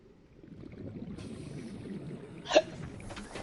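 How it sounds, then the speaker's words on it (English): A person hiccups once, a short sharp burst partway through against quiet background sound from a PS4 game session, with no talk around it. "I get the hiccups now while I'm trying to find diamonds."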